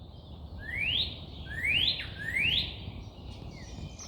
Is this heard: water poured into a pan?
no